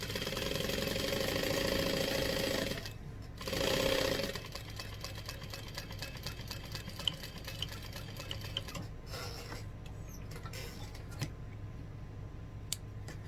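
A sewing machine stitches binding onto a quilt, running in a steady mechanical whir that briefly eases and resumes, then gives way to quieter handling noises near the end, with no speech.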